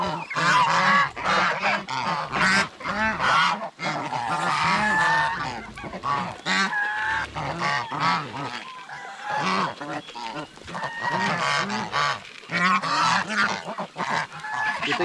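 Geese kept with turkeys on a farm honk loudly and repeatedly in a noisy, overlapping chorus nearby, with no talk over the calls.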